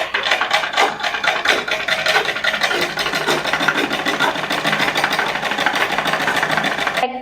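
A sewing machine runs steadily, stitching along a folded edge of a kerchief with a continuous, loud mechanical whir and rapid needle rhythm, close up and without talk.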